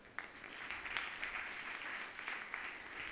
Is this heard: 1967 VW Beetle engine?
no